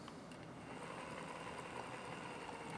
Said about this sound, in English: the last motor, which is the 6 Newton meter 15 RPM motor